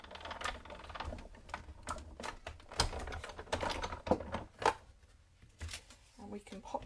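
Paper runs through a hand-cranked die-cutting machine during card-making, giving a close series of uneven clicks and rattling ratchet taps.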